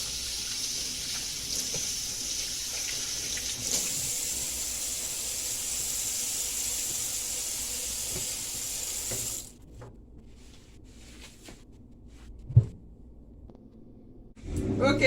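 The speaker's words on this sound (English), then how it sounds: "So, I will start by washing my hands." Hands washed under a running kitchen tap, a steady loud rush of water for most of the clip that cuts off abruptly, followed by quieter handling sounds and a sharp knock.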